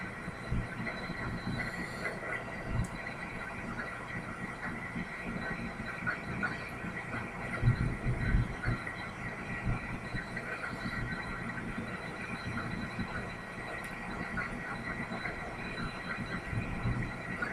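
A helicopter in Flight Simulator X lifts off near New Orleans, a steady, dense engine and rotor drone holding at an even level throughout with no voices.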